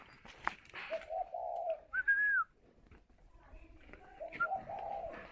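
Spotted dove cooing while sitting on its nest, a few soft, low coos with a brief clear whistle-like note between them, quiet and close in a hushed setting.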